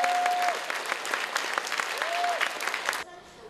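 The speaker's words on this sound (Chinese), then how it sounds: "不时报以热烈掌声" Wheelchair-using audience members at a charity concert in Kaohsiung's Dome of Light applaud a blind pianist, warm massed clapping that holds for about three seconds and then stops abruptly.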